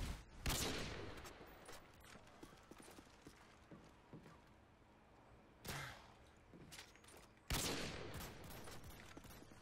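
Gunfire in the shooter game Call of Duty: Modern Warfare 2, a few sharp, loud shots standing out from a steady background of game noise, with only faint voices at most.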